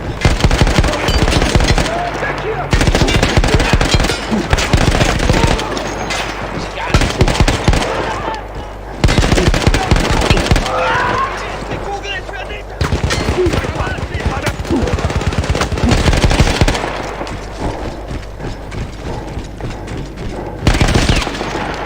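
A mounted machine gun in Battlefield 1 rattles off long, rapid bursts separated by brief pauses, loud and close, with occasional voices in the mix.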